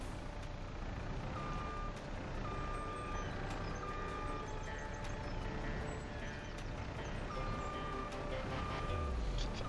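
Truck reversing with an unruly dolly trailer in Farming Simulator 25, its regular backup beeps repeating steadily over a constant engine rumble throughout.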